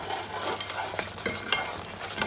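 A spoon stirs thickening mango jam in a cooking pot, with repeated scraping strokes over a soft bubbling simmer, close and clear with no talk.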